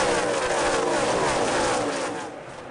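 NASCAR stock cars racing in a tight pack at Pocono, a continuous loud roar of engines passing that fades slightly toward the end.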